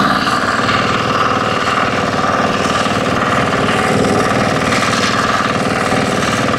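Tractor engine pulling steadily in second gear with four-wheel drive engaged and the throttle at half, a loud, continuous mechanical drone with a rapid, even pulsing throughout and no voices.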